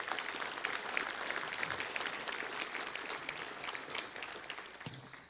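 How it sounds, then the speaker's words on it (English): Audience at a touchdown club luncheon applauding the sponsors, sustained crowd clapping heard from a distance and fairly faint, tapering off at the end. "Let's give all of our sponsors a round of applause."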